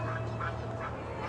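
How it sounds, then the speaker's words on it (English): Ducks or similar birds at a zoo in southeast Brazil give brief, soft quacking calls over a steady low background hum. "They're beautiful little birds."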